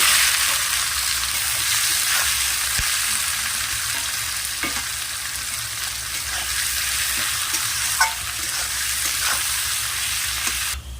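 Chopped onion frying with whole cumin in a wok (kadai) in a village kitchen, a steady bright sizzle throughout with occasional clicks and scrapes of stirring, close and fairly loud, no speech.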